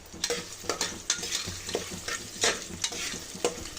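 Onions frying in oil with cumin seeds in a pan for chicken biryani, a steady close sizzle broken by repeated scraping stirs of a spoon roughly every half second.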